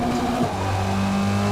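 Engine of a 2008 Mitsubishi Lancer X EVO GSR four-cylinder revving during a racing championship, a steady close mechanical drone with a dip in pitch partway through, then holding high and loud to the end.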